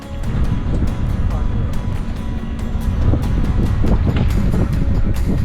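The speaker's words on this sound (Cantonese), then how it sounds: "天氣都麻麻，越嚟越大風，天都暗埋" Strong wind buffets the microphone aboard a small fishing boat off Tsing Yi in Hong Kong, a loud continuous roar with engine and water rumble underneath and a voice talking over it.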